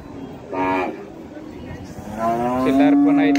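Khillar and Mysore calves at a traders' cattle market low at close range, with one short moo and then a longer, rising one, over a murmur of market noise.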